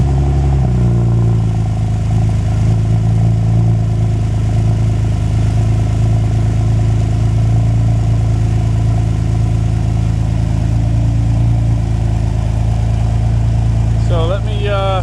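A 2010 Chevrolet Camaro idles nearby with a steady low rumble that holds throughout, a brief slight rise near the end.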